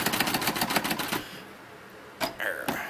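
A 1940s Royal Quiet DeLuxe typewriter clatters as its keys are struck in a quick run of sharp clicks, then pauses before a few more isolated strikes, set to a light key-tension setting.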